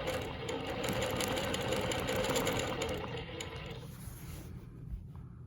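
Longarm quilting machine stitching along a ruler while quilting Baptist fan patterns, a steady fast mechanical whirring hum close by that cuts off near the end.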